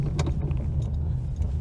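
Interior of a roughly forty-year-old Škoda 120L while driving, with a loud, steady low engine and road drone and a few light rattles, no voices.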